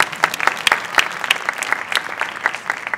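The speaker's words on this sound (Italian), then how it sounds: "Stava partendo l'applauso, lo potete fare." Audience applause at a jazz festival opening, a sparse crowd of individual claps with distinct sharp hand strikes in an uneven rhythm.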